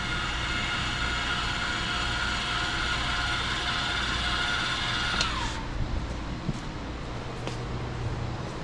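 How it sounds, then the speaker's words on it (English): Stabilizing jacks on a 2025 Jayco Eagle 312BHOK travel trailer retract with a steady electric motor whine and mechanical grinding, then stop, leaving a few faint clicks and clunks. "For our dry camping, we're going to bring up our stabilizing jacks."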